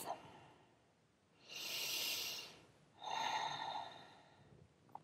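Two slow, deep breaths during a prenatal yoga routine, a long airy inhale followed by a long exhale, soft and close with quiet pauses between them.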